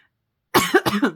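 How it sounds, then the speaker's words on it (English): A single close, harsh cough in a couple of quick bursts after a moment of silence. "I better stop this because I'm coughing too much."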